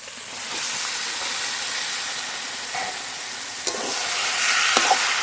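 Marinated chicken sizzling loudly in oil and spice masala with tomato, a steady close frying hiss with a few faint scrapes as it is stirred.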